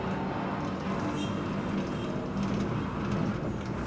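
A Brooklyn-bound A express subway train runs in New York, a steady, loud rumble of wheels and motor that holds level throughout with no break.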